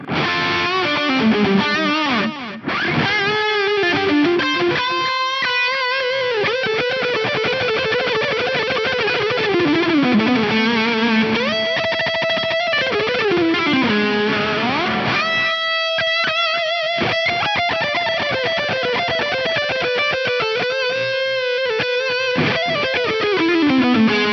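An overdriven electric guitar through a Tsakalis Mothership four-channel all-tube preamp drive plays gritty, distorted riffs and sliding bends, warm and saturated, loud and continuous without any talking.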